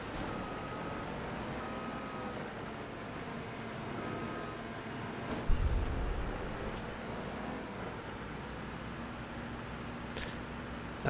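Truck reversing beeps in Farming Simulator 25, faint repeated tones over a quiet engine hum, with one low thump partway through.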